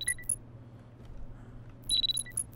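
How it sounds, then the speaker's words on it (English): A ringing alarm in a Japanese horror video game sounds in short bright bursts at the start and again near the end, with a quiet low hum between them. "The alarm is ringing."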